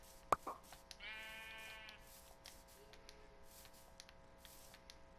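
A single sheep bleats in Minecraft on PS4, one wavering call, quiet against faint game background after a couple of soft clicks.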